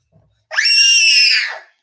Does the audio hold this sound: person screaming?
yes